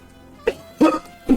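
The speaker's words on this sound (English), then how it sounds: "I don't know why I'm coughing so much." Three short, sharp coughs from one nearby person, spaced about every half second in a quiet room.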